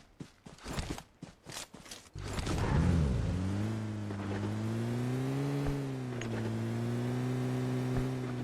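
A game vehicle in PUBG starts after a few clacking, creaking handling sounds, then its engine settles into a steady mid-pitched hum that stays loud and continuous, with no voices.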